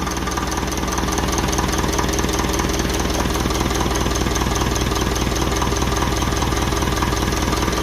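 A 1955 Ferguson 20 TEF diesel tractor engine idles close by, giving a loud, steady knocking chug that runs evenly and alone throughout.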